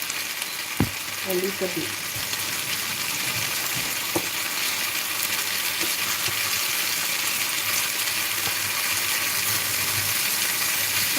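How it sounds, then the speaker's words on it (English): Chicken sizzles loudly in a pan while cooking Korean fire chicken with gochujang and cheese, a constant close hiss with occasional utensil scrapes and taps; a voice speaks briefly. "I'm going to fire the chicken"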